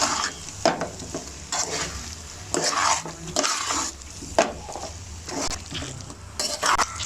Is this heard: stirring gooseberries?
yes